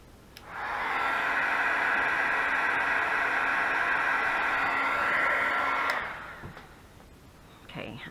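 A hair dryer drying gouache paint on a napkin-covered junk journal cover switches on and blows a loud, steady whoosh for about five seconds, then cuts off and winds down.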